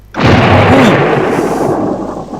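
A lightning strike cracks into a loud, close thunder boom in the horror video game Lamia Nox: Through the Eyes of Mary, hitting suddenly and then rumbling out over two seconds.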